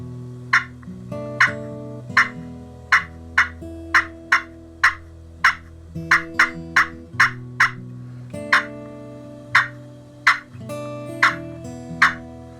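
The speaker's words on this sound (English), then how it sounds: "As far as clucking, cutting, you're just popping that." Sharp, popping turkey clucks and cuts from a turkey pot call, the peg popped on the call's surface, repeated in an uneven rhythm, close and clear with no talking.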